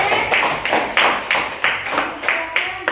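Classroom of students clapping their hands in a rhythmic pattern, sharp regular bursts of claps repeating roughly twice a second.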